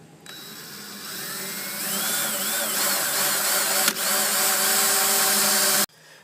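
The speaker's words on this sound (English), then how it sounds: "New power drill, don't want to mess it up that badly." A new power drill whines steadily and loudly for several seconds, its pitch rising slightly as it bites into an old cooler, then cuts off abruptly.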